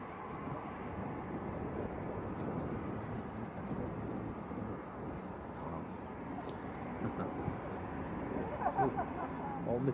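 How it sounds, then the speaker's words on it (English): An All Nippon Airways airliner passes overhead at Manchester Airport, a steady broad roar that holds for the whole stretch under outdoor wind and background noise, growing slightly toward the end. "All Nippon Airlines going straight over the top at the moment"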